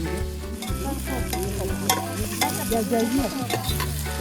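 Tomatoes fry and burn in a pan while Maggi noodles are cooked, with a steady close sizzle and stirring scrapes and clinks over a low background hum.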